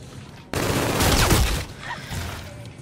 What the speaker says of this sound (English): if you hold Y, it turns into a submachine gun.